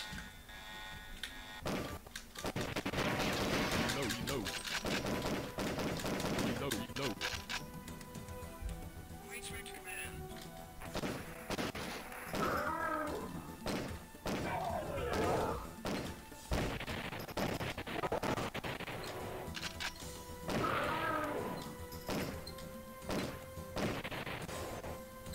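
Light-gun shots and arcade game effects from Area 51, played on a MAME emulator, crash and thwack in rapid bursts over game music and sound, with a person talking now and then.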